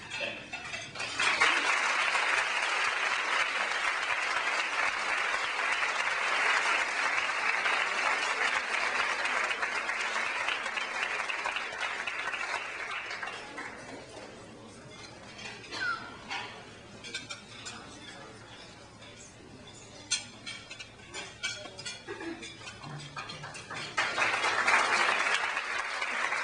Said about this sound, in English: I especially appreciate all the clapping now